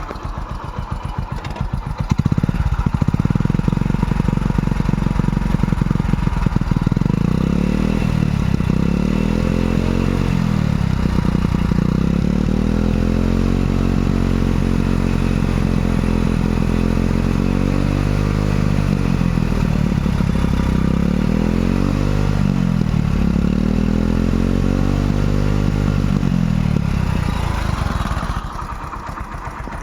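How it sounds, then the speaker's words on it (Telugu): A second-hand Hero Passion Pro motorcycle engine runs at a steady idle, a loud, continuous close-up drone with a faint mechanical clatter, and no one speaks over it. "ఇంజన్ స్టార్టింగ్లోనే ఉంది చూడండి ఫ్రెండ్స్ రన్నింగ్లోనే ఉంది"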